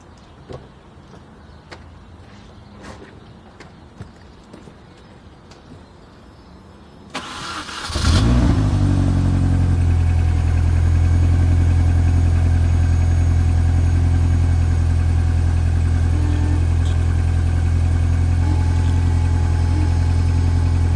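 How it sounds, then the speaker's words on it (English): A 2005 Mini Cooper R50 engine cranks and catches after several seconds of quiet, then settles into a loud, steady idle that holds to the end. "I guess uh, I'll start up the car and"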